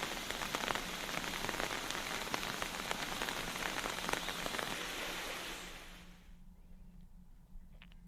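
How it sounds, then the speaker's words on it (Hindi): Steady rain falls on hills and plains in Uttarakhand, a dense, loud hiss of drops on surfaces that fades away after about six seconds, leaving quiet with a faint thump. "पहाड़ के साथ मैदानी इलाकों में भी बारिश हो रही है।"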